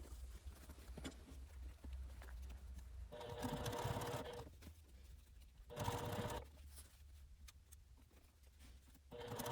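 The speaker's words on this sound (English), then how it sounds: "before you come over to the sewing machine" A domestic sewing machine stitches binding onto a fabric knapsack's front compartment, running in steady bursts of whirring with brief pauses between, close and moderately loud, with faint handling rustle.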